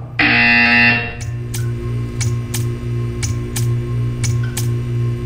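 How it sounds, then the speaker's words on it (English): A loud, flat electronic buzzer in the video game Portal 2 blares for about a second, then stops, leaving a low steady hum with faint repeated clicks ticking over it. "When you hear the buzzer, stare at the art."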